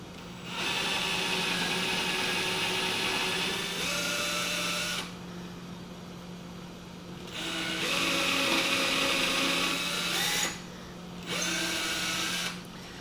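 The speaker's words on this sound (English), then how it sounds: "I'm gonna just drill some pilot holes into it." A power drill drills pilot holes into a wooden jig, whirring in several bursts of a few seconds each, its pitch climbing as it spins up and bites, with short pauses between runs.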